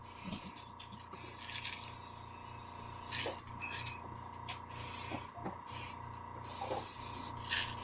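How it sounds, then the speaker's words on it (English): An airbrush sprays thinned black paint mixed 50-50, giving a steady close hiss with brief bursts and pauses as the trigger is worked, over a constant low hum. "Now I'll get rid of that out of my airbrush."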